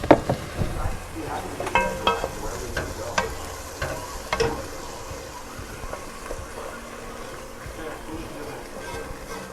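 A rubber spatula stirs and folds chicken and sausage jambalaya in a pot over the heat, giving soft scraping and a light sizzle in uneven strokes, close by with no talk.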